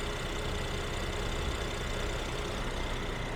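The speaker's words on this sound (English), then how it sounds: "Idles very quietly and happily." A 2016 Mercedes E400 coupe idling with the hood open, a quiet, smooth, steady engine hum with no revving, heard up close and unchanging for the whole stretch.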